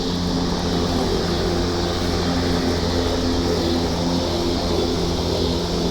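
A remote-controlled lawn mower drives and tank-turns on grass, its motor giving a loud, steady droning hum with a constant mechanical whine, close and uninterrupted throughout.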